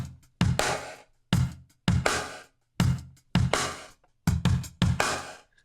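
Drum kit run through an SSL Listen Mic compressor on the drum bus with gated reverb, punchy snare and kick hits in a steady groove, each burst cutting off abruptly into silence.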